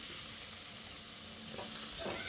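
Eggplant pieces tossed with spices in a hot pan, giving a continuous sizzle with scraping stir strokes near the end and no voices.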